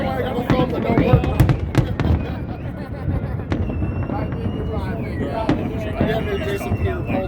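Fireworks at a Las Vegas fireworks show crack and pop in rapid, irregular bursts over a dense crowd hubbub, with occasional whistling rockets and people talking nearby.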